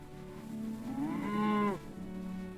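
A cow on a farm lets out a single drawn-out moo that rises and falls over about a second, close and clear against a quiet background.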